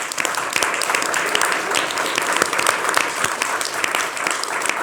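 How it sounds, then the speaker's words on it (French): Steady applause from a studio audience on a French TV talk show, dense clapping filling the whole stretch at a fairly loud level with no pauses. "je vous demande de l'applaudir, notre pépite du dessin en live"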